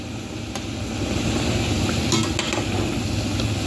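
Steady sizzling of plantain frying in a pan, a constant hiss with occasional light clinks of utensils.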